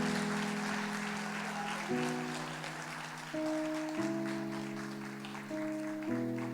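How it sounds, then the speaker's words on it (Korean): A church congregation applauds in a steady wash of clapping, while sustained organ or keyboard chords play underneath, changing every couple of seconds. "격려 박수 한번 부탁하겠습니다."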